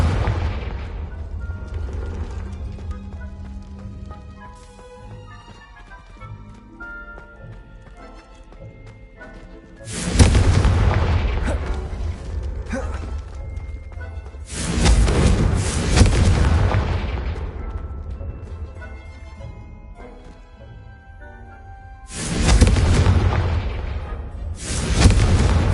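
Deep booming explosions from the Confringo blasting spell in the Hogwarts Legacy game erupt in several loud bursts, separated by quieter stretches of low rumbling game ambience and music.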